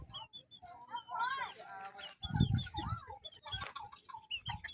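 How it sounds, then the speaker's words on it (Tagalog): Chinese chickens at a farm resort in Indang, Cavite, clucking and chirping in short, repeated calls close by, mixed with voices talking over them. "Dami na Chinese chicken"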